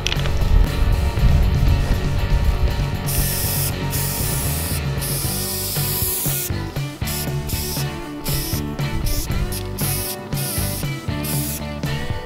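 A bus's back bumper is being spray painted white with an aerosol can, giving repeated close hissing bursts separated by short pauses over a steady background.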